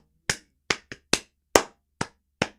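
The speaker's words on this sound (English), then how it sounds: "we're gonna chant Zverev, and we're gonna clap along" Tennis spectators at a French Open semifinal between Zverev and Mensik clap along in a steady rhythm, about eight crisp, evenly spaced claps ringing out clearly with no voices over them.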